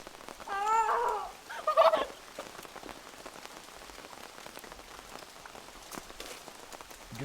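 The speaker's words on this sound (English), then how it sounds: "You gonna go out in the rain?" May rain falling steadily on outdoor surfaces, a dense, even patter of drops continuing throughout, with a brief animal-like call near the start and no talking.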